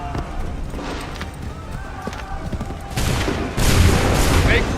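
Musket volleys crack out in Assassin's Creed III, a dense rattling fusillade that swells louder near the end, with shouted orders and battlefield noise around it.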